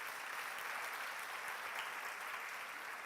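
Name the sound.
congregation applause in church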